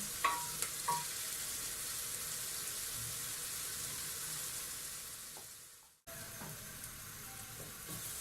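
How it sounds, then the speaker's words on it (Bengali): Sliced onions sizzle steadily in a hot pan while beef bhuna with sweet pumpkin is being cooked, with a few sharp stirring clinks and a brief break in the sound. "পেঁয়াজটা আমার ভাজা ভাজা হয়ে গিয়েছে।"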